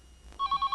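Telephone ringing in a home, an electronic trill of rapid pulsing rings starting abruptly after a moment of near silence, loud and close.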